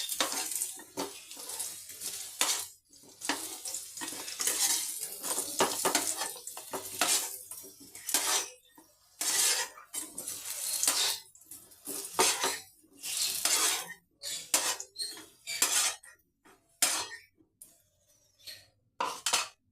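Lentil bori and potato fry in a pan in a home kitchen, with a soft sizzle under frequent metal spatula scrapes and clinks against the pan, in irregular bursts without speech.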